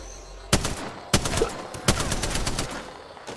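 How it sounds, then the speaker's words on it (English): Gunfire in the video game Apex Legends: three loud bursts of rapid automatic shots, each followed by a rattling tail, close and sharp with no talk over them. "I'm shooting it."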